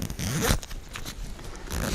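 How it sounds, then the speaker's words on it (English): A zipper on a beekeeping suit is drawn up in one quick, close, rasping pull, loud against a steady background hiss. "making sure you're doing up your zips and the Velcro in the middle"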